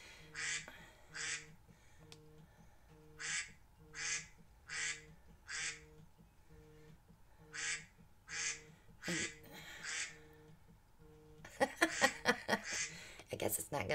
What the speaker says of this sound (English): The duck quack.